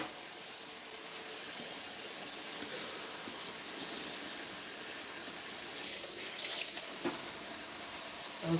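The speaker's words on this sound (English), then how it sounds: "while we wait for the water to fill up" Water steadily filling a container in a kitchen, a continuous hissing rush that holds at an even level throughout, with a few faint clinks near the end.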